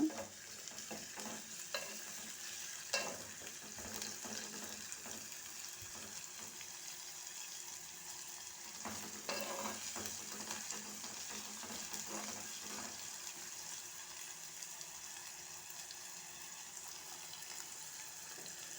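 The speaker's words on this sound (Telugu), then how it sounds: "వేసుకున్న తర్వాత ఇలా కలుపుతున్నాను అన్నమాట" Onions frying in oil while being stirred in a pan, a steady soft sizzle with occasional scraping clicks of the spoon, faint and continuous throughout.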